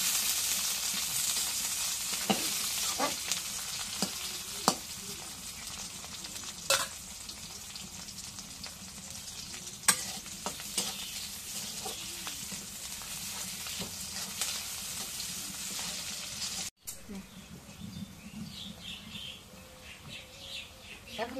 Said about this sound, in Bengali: তেলের মধ্যে ভাজে নিই।